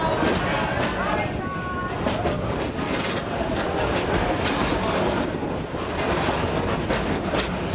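A park train at Busch Gardens Florida rumbles steadily along its rails with a continuous clattering roar, loud and close throughout, a voice faintly audible beneath it.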